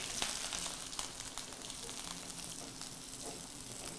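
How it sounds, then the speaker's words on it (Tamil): Mustard seeds and onions frying in oil in a pan while cooking mushroom chukka, a faint, steady sizzle with soft crackles and occasional small pops throughout. "கொஞ்சமா கடுகு போட்டு அது நல்லா பொரிஞ்ச உடனே பருப்பு ஆட் போடலாம்"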